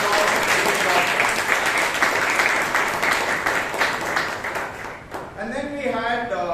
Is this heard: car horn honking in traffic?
no